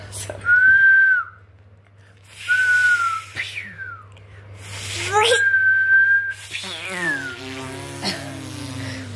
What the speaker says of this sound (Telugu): వాళ్ళకి విజిల్ వేస్తున్నావా?